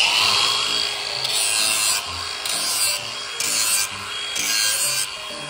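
A cordless grinder removes burrs and chamfers a metal edge, a loud, close grinding hiss that rises and falls in short strokes of about a second each.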